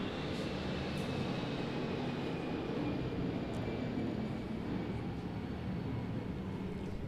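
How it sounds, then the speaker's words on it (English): Airplane passing overhead outdoors, a steady broad roar that holds at a constant loudness throughout, with a faint high whine running beneath it and no talking. "I'm going to drink beer while that airplane goes overhead."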